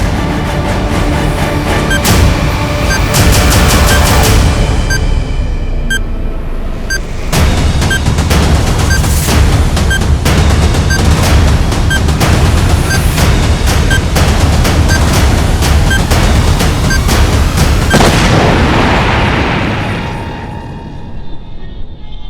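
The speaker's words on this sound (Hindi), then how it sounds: "जो तुम ना बोल पाए वो अब ये बम विस्फोट बोलेगा" A bomb explosion in a crime drama scene: a long, loud burst of booming blasts and crackling gunfire-like bangs that rolls on for about twenty seconds before fading, with no talk.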